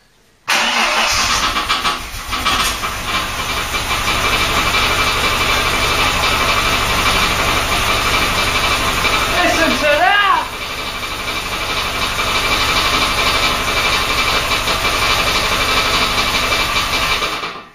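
A Mk3 Ford Cortina classic car engine runs steadily at idle after starting, a loud constant rumble close by, with a brief voice partway through.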